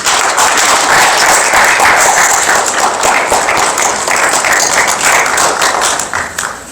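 Loud, dense applause fills an award ceremony hall as a youth-award recipient is welcomed, sustained clapping that stays strong and only starts thinning near the end.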